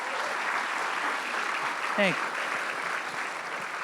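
An audience at a cleantech pitch event applauds steadily throughout, and one voice briefly speaks a single word over the clapping midway.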